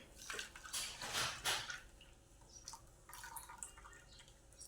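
Thick Telugu-style buttermilk made from blended curd is poured into a bowl for a buttermilk rasam, giving a close, wet splashing and dribbling sound that swells in bursts and then trickles off, with no talking.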